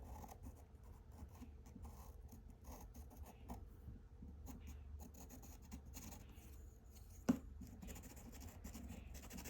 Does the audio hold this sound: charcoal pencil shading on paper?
yes